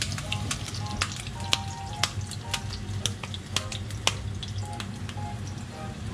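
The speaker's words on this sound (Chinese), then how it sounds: "现在我老婆回来开始煎汉堡肉" Hamburger patties sizzle in a frying pan at a home kitchen birthday meal, a steady soft fizz with sharp scattered pops and crackles, close but fairly quiet, no talking.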